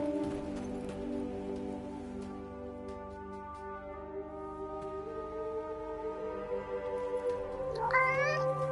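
A cat in Forspoken meows in a drawn-out, wavering cry over a soft ambient bed, with a sharper rising meow near the end, no talk.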